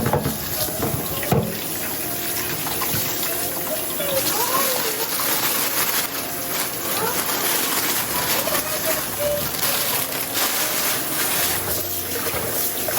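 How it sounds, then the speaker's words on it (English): Vegetables rinsed under a running kitchen tap, a steady loud hiss and splash of water that continues without a break, with faint clatter and rustling mixed in. "I'm gonna wash my vegetables."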